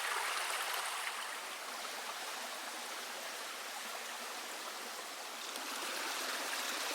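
A shallow stream flows and grinds its way through rocks during a dry summer in the Creuse, giving a continuous, even rushing hiss of water, close and alone with no voices.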